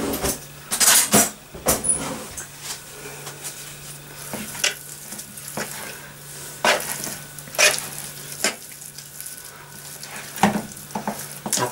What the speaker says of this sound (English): And then I'm going to mix that with a fork.